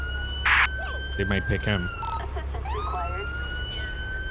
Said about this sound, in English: Had a siren on the whole time.